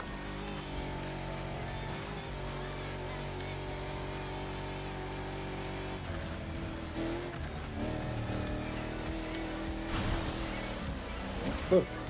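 Gumpert Apollo Sport supercar engine in a racing video game, a steady sustained drone with changing gear pitch and a brief louder burst near the end, with game music or effects layered underneath.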